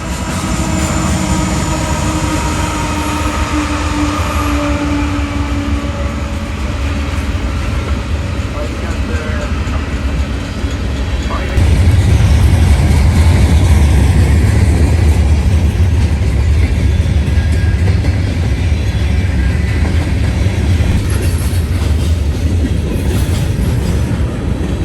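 A freight train with Union Pacific ET44AC and Kansas City Southern locomotives as distributed power rolls past in Ohio, a loud continuous rumble and rattle of wagons that grows heavier about halfway through.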